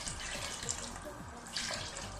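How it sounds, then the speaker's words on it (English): Water runs steadily from a tap into a pot while egusi soup is being made, a continuous close splashing stream with faint clinks, no talking. "So all I have to do is to pour water inside the pot that we use in frying it."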